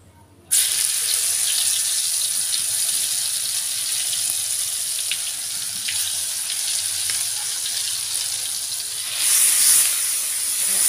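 Spice paste for seblak, made with kencur, sizzling and frying in a hot pan. The bright, steady hiss starts suddenly and runs without a break, swelling slightly near the end, with no talking.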